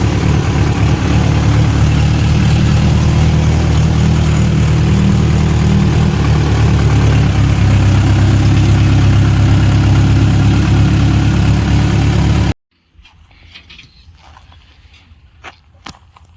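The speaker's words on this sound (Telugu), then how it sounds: "పరదలు వేసేసరికి మిషన్ స్టార్ట్ అయింది" A Mahindra NOVO 755 DI harvester engine runs steadily and loudly at close range for about twelve seconds, then cuts off abruptly into quiet field ambience with a few faint knocks.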